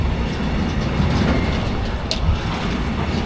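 A freight train rolls past on the rails, a steady dense rumble with faint clatter and a brief high squeal near the end, loud and close, no voices.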